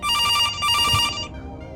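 In the horror video game September 2, a telephone rings in a continuous bright, buzzing harmonic trill for over a second before stopping, with no talk.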